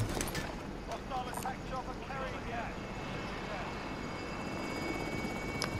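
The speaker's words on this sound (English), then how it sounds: "Attack chopper." An attack helicopter in Call of Duty: Modern Warfare, a steady rotor and engine drone running throughout under a game-world clamor, with a voice speaking over the first seconds.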